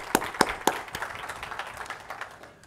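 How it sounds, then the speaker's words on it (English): A small conference audience at a talk on cloud adoption claps briefly to welcome the speakers, a few sharp early claps followed by scattered, fading applause. "let's give them a round of applause to welcome them"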